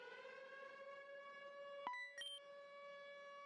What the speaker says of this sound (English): Hear sirens happening.